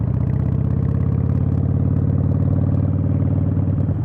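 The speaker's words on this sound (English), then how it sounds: "this bike doesn't like being in second at low revs or speeds or whatever" Harley-Davidson Iron 883 motorcycle engine lugging in second gear at low revs, a loud, steady low rumble with a slightly uneven, chugging pulse throughout, close to the rider and with no talk.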